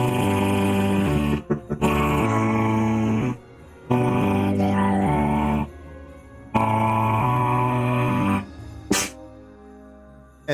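A dog named Georgie in a game growls in long, rumbling bursts, loud and close, broken by brief pauses and a short sharp sound near the end, with no talking.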